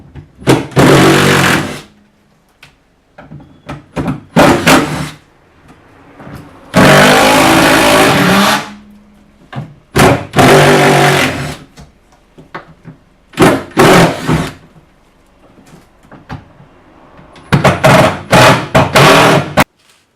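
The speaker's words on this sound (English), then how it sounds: "impact driver" An impact driver backs out 12 mm screws from an access panel on a Mitsubishi Pajero 2.8, loud close bursts of rapid hammering rattle, about eight separate runs of one to two seconds with quiet gaps between.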